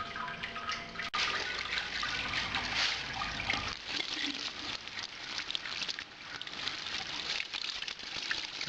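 Water trickles and splashes steadily through brewing mash during a sparge at close range, a continuous bright wash of liquid sound with no voices.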